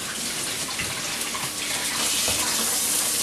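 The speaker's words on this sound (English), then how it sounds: "I'm going to wash my hands" Hands are washed under a running tap, a steady close splash of water that swells slightly louder toward the end, with no voices.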